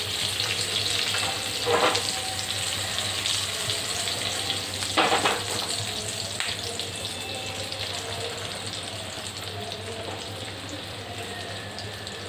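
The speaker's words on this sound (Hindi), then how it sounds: "और इसको हमें शैलो फ्राई करना है।" Shami kabab shallow frying in hot oil on a slow flame, a steady soft sizzle and crackle with a few louder spattering bursts, close and without voices.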